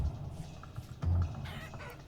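Hens and chickens in Vintage Story giving a few soft, short clucks against a quiet game background, one slightly louder call partway through.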